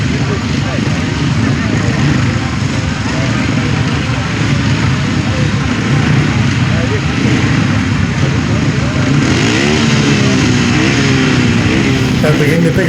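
Several grasstrack racing motorcycles drone and rev together continuously at a race start, loud and rough, with rising pitch sweeps near the end as they pick up speed.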